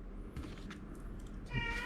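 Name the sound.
cat meowing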